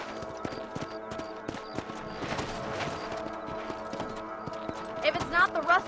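A horse in the Red Dead Redemption video game trots with steady clip-clop hoofbeats throughout, ending in a few louder hoof strikes, under game sounds.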